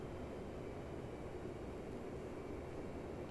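Twin jet engines of an F-15C in the DCS flight simulator, throttled back to idle over the runway midfield, give a steady, broad low roar with no voice over it.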